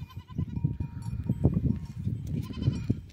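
Several farm goats bleating repeatedly in short overlapping calls, fairly close, with a faint bell-like clink in the background and no talk.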